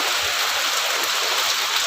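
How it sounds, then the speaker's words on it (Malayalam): Dense, unbroken roar of heavy rain pouring down nearby, loud and constant throughout with no other sounds standing out. "മഴ തന്നെ ഗൈസ് മഴ"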